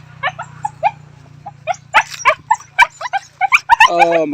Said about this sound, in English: Oh my God, the doggy after me.